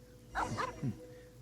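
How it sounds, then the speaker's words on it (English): A few quick barks from a dog in a video game, likely a space-themed temple quest, come close together, moderately faint over a low steady background. "Why are you barking at the cemetery?"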